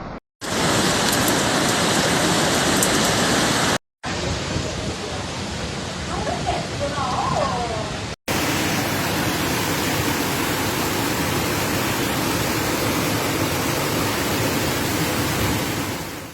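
Heavy rain pours down during a violent storm downpour in Genova, Italy, a dense steady roar that runs almost the whole time, broken by two brief cuts, with loud even hiss throughout.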